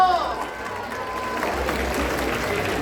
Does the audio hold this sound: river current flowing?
no